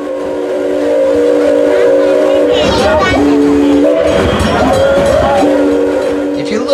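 A passenger train rolls along the rails, loud and steady, with sustained horn or whistle tones that shift pitch and heavy rumbling and clatter beneath. Voices are mixed in.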